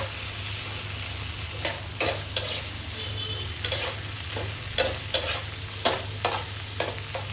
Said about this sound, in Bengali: এক সাইডে আস্তে আস্তে ভাজা হতে থাকে